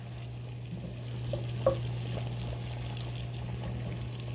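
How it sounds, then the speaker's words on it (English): Butter melts in a pan on the stove while being stirred, giving a faint soft sizzle over a steady low hum, with one sharp utensil clink near the middle. "As we can see, our butter is melting very nicely."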